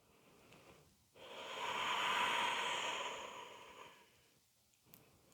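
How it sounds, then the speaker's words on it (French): A single long, steady breath during a beginner yoga flow, a soft airy hiss swelling and fading over a few seconds, close and quiet with no talk. "on continue de respirer ici."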